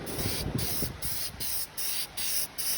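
Adhesion promoter is dusted onto the body of an El Camino from a spray gun, a loud close hiss cut by short regular gaps as the trigger pulses on and off.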